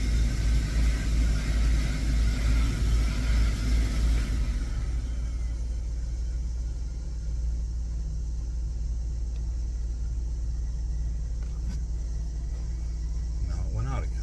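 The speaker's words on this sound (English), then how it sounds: "There goes the blower motor, working perfectly fine." A Jeep's blower motor runs with a steady low rumble and whooshing hum, continuous and close, easing slightly after the first few seconds.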